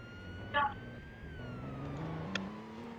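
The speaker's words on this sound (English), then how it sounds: "I hear a siren behind me." A police car siren wails faintly in the Roblox game Liberty County, a thin rising and falling tone behind a low background of driving and game noise.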